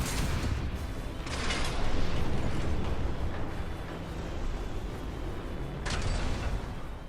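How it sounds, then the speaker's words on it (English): A vertical missile launcher in Armored Core 6 firing homing rockets, a dense rumbling whoosh throughout with two sharp bursts of launch hiss near the start and end. "The vertical missile launcher shoots 4 homing rockets into the air before coming back down."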